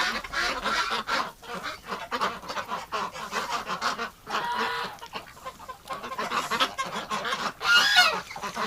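Geese honking in a winter farmyard among ducks, loud repeated harsh calls in irregular overlapping bursts, close by, with wind-like noise in between.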